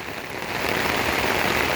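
Steady outdoor rain falls at a riverside park in Victoria, a dense close hiss of drops on surfaces that swells slightly after the first half-second and holds evenly throughout.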